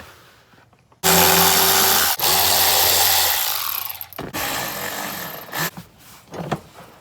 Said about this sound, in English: we're going to remove the 2 bolts on the driver's side and the 2 bolts or 2 screws on the passenger side using a T20 Torx bit